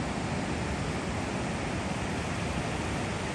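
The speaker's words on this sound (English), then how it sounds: "Look at those waves." Ocean surf rolls onto the beach at San Onofre on a cloudy day, a dense continuous wash of breaking waves with steady roar and no distinct pauses, close and fairly loud.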